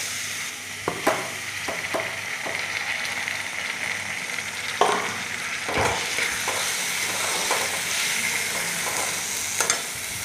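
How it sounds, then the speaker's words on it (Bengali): Ginger paste fries in a pan: a steady, close sizzle runs throughout, with a spoon stirring and scraping now and then, and no talking. "আদাটা একটু ভালো করে ভেজে নিই যাতে কাঁচা গন্ধটা না থাকে।"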